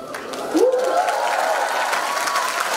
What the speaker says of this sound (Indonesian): Tepuk tangannya kencang.